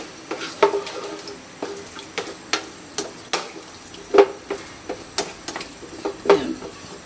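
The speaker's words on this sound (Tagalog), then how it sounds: "Haluin natin." A spoon scrapes and taps against a pot of pork stock with vegetables and sweet potato, with irregular sharp clinks and soft stirring swishes, close and moderately quiet, with no talking.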